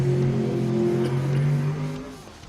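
An R100 drag racing car launches down the strip at a Jamboree Melbourne drag meet, its loud engine roaring and rising in pitch before fading off into the distance.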